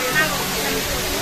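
Constant roaring rush of the Montel waterfall at a tourist site, a dense, unbroken wash of noise heard close and loud throughout.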